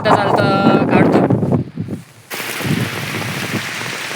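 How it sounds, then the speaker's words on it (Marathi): Heavy rain and gusting wind roar outdoors on a path leading into the woods near Neral. The broad, steady hiss swells in the second half while a person talks nearby. "जोरदार पाऊस चालू आहे इकडे आपल्या इकडे नेरळमध्ये"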